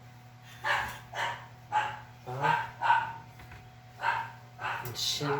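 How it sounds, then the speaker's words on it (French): A female dog yaps in short repeated bursts outdoors, about eight sharp barks in a loose rhythm, close and fairly loud, with a brief human exclamation among them. "Ma chienne jappe."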